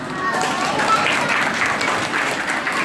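Guests at Marijó's birthday party keep up a steady burst of applause and crowd noise, fairly loud and continuous throughout.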